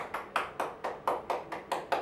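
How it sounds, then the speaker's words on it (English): Young nursery and early-grade children clap together during a school sports and fitness session, nine evenly spaced claps in a steady rhythm, fairly faint and slightly distant. "Big clap for you all."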